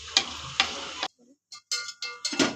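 Whole spices, bay leaves, cardamom, cinnamon, peppercorns and cloves, crackle and sizzle in hot oil in sharp bursts with a brief near-silent gap, close and moderately loud.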